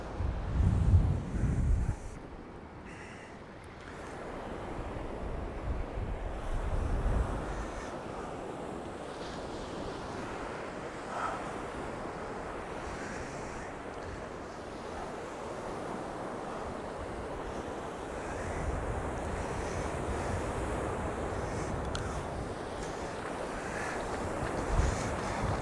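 Steady wind buffeting the microphone on the beach at Cleethorpes on the East Coast during sea fishing, a continuous broad rush with surf in the background, loud gusts at the start and no speech.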